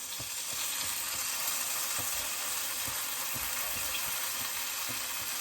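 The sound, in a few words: sweet potato fritters sizzling in the pan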